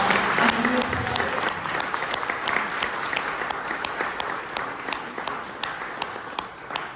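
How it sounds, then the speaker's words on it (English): An audience at a state legislators panel breaks into a round of applause, dense clapping that starts loud and gradually thins, with a few crowd voices mixed in. "let's give every single person here a huge round of applause"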